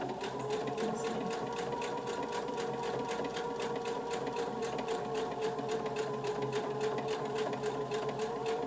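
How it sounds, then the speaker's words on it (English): A sewing machine runs steadily, stitching along the edge of a zippered bag opening, its needle ticking in a fast, even rhythm with a whirring motor beneath, close and moderately quiet. "we're going to stitch right on the edge of that opening."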